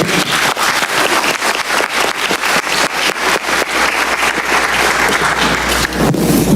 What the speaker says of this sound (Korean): 우리 모두 대통령께 감사와 격려의 큰 박수를 한번 하면 어떻겠습니까?